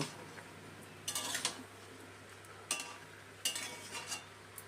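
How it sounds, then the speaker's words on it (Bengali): Carrots and beans stirred and lightly fried with chicken and vegetables for a chicken stew, giving a faint background with three or four brief bursts of scraping and sizzling spaced a second or so apart. "এখন গাজর আর বিনসটা সব কিছুর সাথে মিশিয়ে নিয়ে হালকা করে একটু ভেজে নেব"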